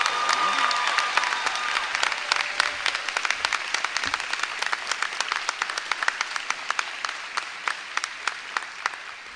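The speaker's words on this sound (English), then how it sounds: "Please join me in giving her a well-deserved Rattler round of applause." Sustained audience applause at a FAMU graduation ceremony in August 2021, a dense crowd of clapping hands that stays loud and steady for the whole stretch with sharp individual claps standing out.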